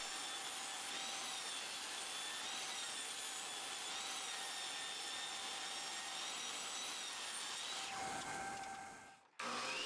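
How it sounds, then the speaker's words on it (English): A table saw rips a 1x4 wood board lengthwise into two 1x2 strips, a steady loud whining cut that holds for about eight seconds before the blade spins down and stops. "take what's left of your 1x4s and rip it in half on the table saw"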